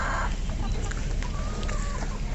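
Hens clucking on an organic hen farm, soft scattered clucks and calls at moderate distance over steady outdoor background noise.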